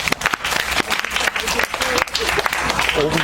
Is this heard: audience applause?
yes